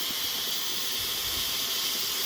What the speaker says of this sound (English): that now is the sound of it pumping into the teapot